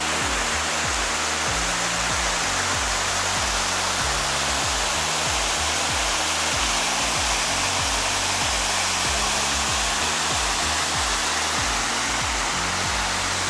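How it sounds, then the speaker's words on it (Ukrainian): The Bystrytsia River in Ukraine rushes with a constant, dense roar of flowing water, unchanging and with no voices. "Це річка Бистриця"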